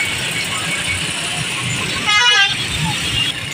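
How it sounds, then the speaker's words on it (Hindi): A congested street near Faisalabad in a traffic jam, with a steady roar of buses, cars and trucks, a short car horn toot in the middle, and someone talking over it. "सामने तक से नाजी ज्यादा ट्रैफिक जाम है"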